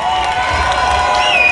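Stadium crowd at a football match cheering and clapping for a player, a broad, distant roar of voices with whistling tones above, sustained throughout.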